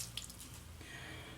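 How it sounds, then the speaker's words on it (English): Water wrung from a shaving brush spills into a bowl, giving a brief, quiet trickle and drip close by. "I have just wrung out a brush full of water in the bowl"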